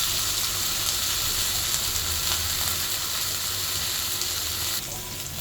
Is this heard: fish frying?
yes